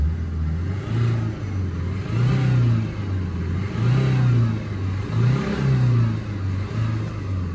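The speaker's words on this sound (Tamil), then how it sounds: "இப்போ இன்ஜினோட ஆக்சிலேட்டர் கொடுக்குறேன்." A Maruti Suzuki Ciaz engine with excessive oil consumption is revved repeatedly with the accelerator, producing about five rising and falling swells of a mid-pitched engine roar, close and loud, with no talking.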